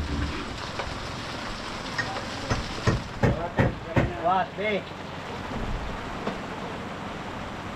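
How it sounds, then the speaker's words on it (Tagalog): Steady rain falls in a continuous dense hiss across the whole stretch, with a few knocks and short bursts of men's speech over it. "Mainit na umuulan partner."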